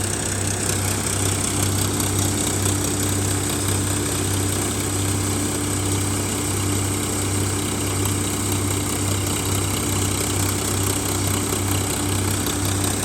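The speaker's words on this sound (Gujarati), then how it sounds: "ટ્રેક્ટરનું સાયલેન્સરનો અવાજ" Tractor exhaust silencer while the tractor runs a wheat thresher, a loud, constant engine drone with a steady low throb and dense mechanical noise, unbroken and without any voices.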